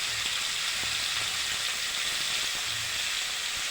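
Rui fish frying in oil in a wok, giving a steady, loud sizzling hiss with faint crackles underneath, continuous and close.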